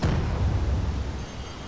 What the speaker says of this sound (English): Let's see if they are okay with fire damage and an explosion.